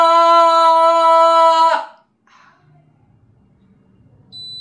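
A voice imitates a sugar factory siren with a loud, steady sustained wail lasting nearly two seconds, then cuts off into near silence with faint low murmurs.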